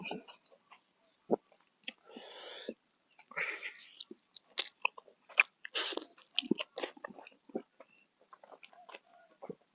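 Close, loud crunching and chewing of spicy som tam with crisp fresh vegetables, served alongside braised oxtail, in irregular bursts with wet mouth sounds and no talk.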